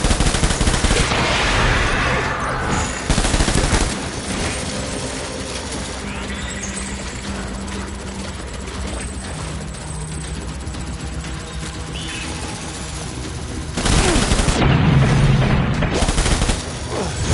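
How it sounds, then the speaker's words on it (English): Gunfire bursts in the video game Death Stranding, loud dense volleys at the start and again near the end, with a quieter rumbling stretch of combat ambience between them. "Light him up. Open fire."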